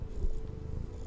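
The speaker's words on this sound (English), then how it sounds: "That is not me making the noise, that is the cat." A house cat purring up close, a low rumbling drone with a rapid fluttering pulse, steady and fairly soft with nothing else over it.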